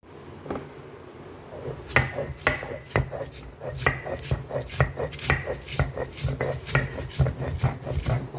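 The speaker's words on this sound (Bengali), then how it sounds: "এই সবগুলো দিয়ে আমি এবার এই শিলপাটাতে একটু বেটে নেব" Rhythmic, close-up grinding strokes of stone scraping over stone as taro root paste is ground on a stone slab, repeating steadily about twice a second with soft knocks between passes.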